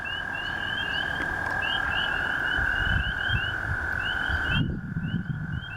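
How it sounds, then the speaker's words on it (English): Spring peeper frogs call outdoors in a dense, continuous chorus of high, rising peeps that repeat steadily over a low background rumble, with a brief dip near the end. "I hear 2 different frogs right now. I hear peep peep, the spring peepers,"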